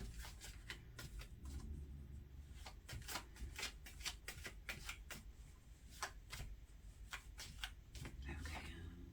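Tarot cards are shuffled in quick, crisp riffling bursts and soft slaps, close and quiet, repeating irregularly throughout.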